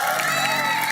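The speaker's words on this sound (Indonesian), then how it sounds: "Tepuk tangan dong." An audience at a Ramadan community gathering in a village in Karang Bahagia, Bekasi, claps and cheers: a brief, loud, dense burst of crowd noise with raised voices mixed in.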